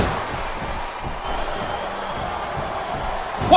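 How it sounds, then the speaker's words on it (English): Video game arena crowd in WWE Smackdown vs RAW 2008 during a women's wrestling match, a steady roar of cheering spectators rising slightly at the end, under ring impacts. "The crowd is coming alive."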